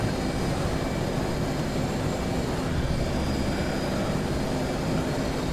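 Airliner engines roar steadily at takeoff power through the climb, a loud unbroken drone that stays even throughout with no voices.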